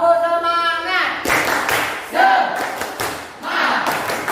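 Children in a classroom perform a rhythmic spirit clap, bursts of group clapping in a patterned beat alternating with their loud chanted voices.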